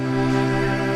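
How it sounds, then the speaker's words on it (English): A steady mechanical hum with a constant low drone and faint whirring, like a washing machine running in another room, unbroken throughout. "you can hear the washing machine in the background."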